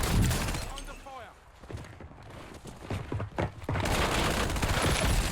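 Gunfire in the battle-royale game Call of Duty Warzone: scattered close shots and thuds with game sounds, a lull, then a dense, sustained burst of firing toward the end, with a voice speaking over part of it.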